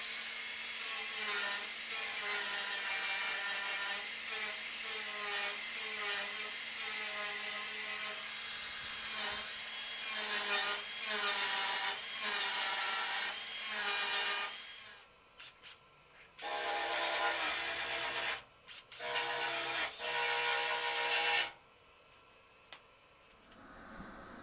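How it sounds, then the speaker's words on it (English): A wire brush scrubs a part on a Holden VK Calais, close and loud, giving a steady scratchy rasp for about fifteen seconds, then stopping and returning in several shorter bursts with brief pauses between them. "A bit of a wire brushing now to clean it all up and move on to the next bit."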